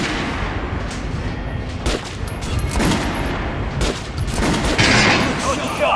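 Dense, continuous rifle fire at a shooting range in the Metro Redux video game, rapid overlapping shots filling the whole stretch, loud and close, with a voice speaking over it.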